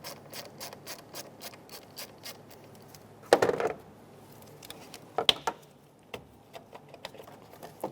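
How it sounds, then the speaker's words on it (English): A 10mm socket ratchet loosens the negative battery terminal nut on a 2012-2020 Chevrolet Sonic, producing quick rhythmic clicking bursts with a couple of louder metallic clunks, faint and close. "Using a 10mm socket, remove the negative terminal from the battery."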